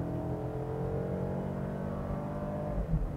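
A Mercedes-Benz A220's unremarkable four-cylinder engine hums steadily as the paddle-shifted transmission changes gear, the pitch sliding gradually downward with a small bump near the end, heard from inside the car with no speech.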